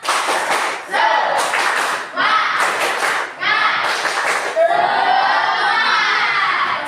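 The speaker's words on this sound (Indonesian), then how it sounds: "yuk tepuk semangat" A class of children doing a rhythmic spirit clap led by a teacher, loud bursts of patterned clapping mixed with shouting voices in a lively room, pausing briefly between rounds.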